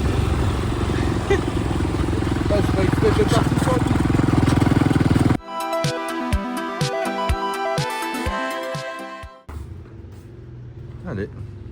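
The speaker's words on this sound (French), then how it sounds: "je suis montée avec un Laosien sur sa moto" A motorcycle ride in rural Laos as a passenger behind a local rider, with a steady engine rumble and wind noise for about five seconds before the scene cuts to other sounds, and voices talking now and then.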